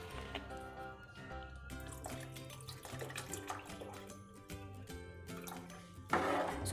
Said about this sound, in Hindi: इसमें पानी हम ऐड करेंगे।